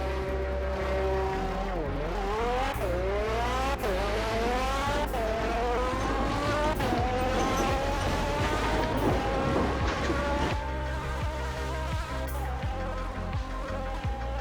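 A high-revving engine of a budget junkyard car in the Roblox game Fix it Up whines up and down through gear changes, buzzy and continuous, with no voices.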